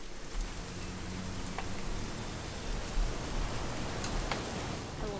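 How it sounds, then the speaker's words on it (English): Steady rain falls outdoors in the video game What Remains of Edith Finch, a soft continuous hiss with faint scattered drips, no voices. "It's gonna rain the whole weekend, isn't it?"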